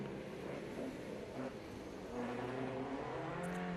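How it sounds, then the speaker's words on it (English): BMW 2000 four-door saloon, mechanically like a 2002, running on track at a historic grassroots sprint event in Leyburn, Australia; a steady, fairly distant engine drone rises slightly as the car accelerates. "Ross Cuff on track now in the BMW 2000"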